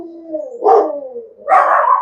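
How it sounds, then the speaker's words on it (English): Dogs bark in two short loud bursts, close by, with a steady whine-like tone running beneath them, no talking. "excuse the dogs"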